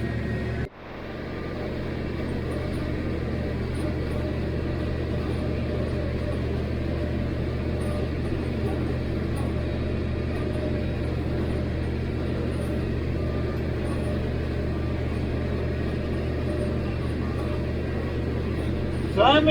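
Massey Ferguson 1105 tractor in first gear pulling a Krone 2801cv mower through hay, a steady, even low engine drone heard from the cab with a sharp knock at the start and no speech.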